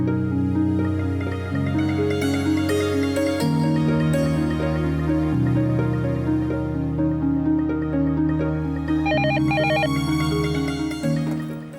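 A telephone ringtone plays continuously for about twelve seconds, a loud melodic electronic tune cycling through repeating notes with no talk over it, as a call is placed during a TV drama scene.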